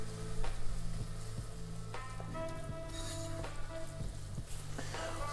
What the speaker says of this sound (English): So frying your onion until it's golden.